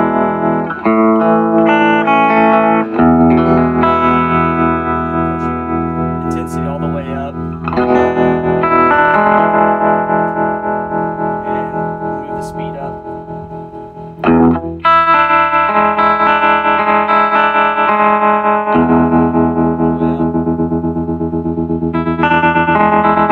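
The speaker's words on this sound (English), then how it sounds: "We'll do the tremolo. Here's the intensity." Guitar played through the tremolo of a Harmony H415 amplifier with original twin 12-inch Jensen speakers, intensity at 5 and speed at its slowest, giving loud sustained chords that swell and pulse slowly, recorded outdoors.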